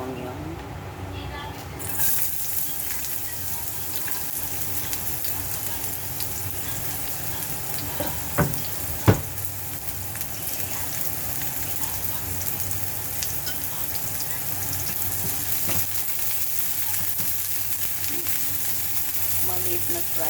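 Onion fries in a small frying pan with a steady, close sizzle throughout, punctuated by a few clinks of a utensil, and a person speaks briefly.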